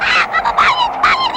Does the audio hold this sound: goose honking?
yes